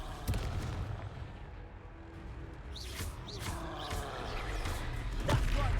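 A Confringo fire spell in the witch game Mrs. Coco is a Witch 2 goes off as a series of deep, booming blasts with sharp cracks, fairly loud amid ongoing battle noise.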